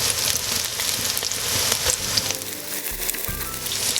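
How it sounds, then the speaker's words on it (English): Mutton sizzles and fries steadily in a pan with golden brown onions, a continuous hissing crackle with occasional louder pops and a brief stirring scrape near the end. "Now the onions are golden brown, I'm going to add in the meat and fry it for a few minutes."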